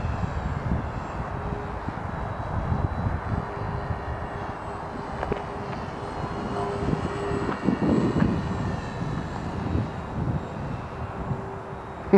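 An FMS Kemy trainer RC airplane making low passes on a very windy day, its electric motor a steady drone that swells and eases as it sweeps by, with wind noise throughout.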